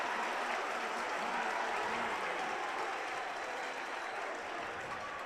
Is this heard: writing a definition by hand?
no